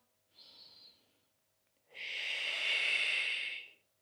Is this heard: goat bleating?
no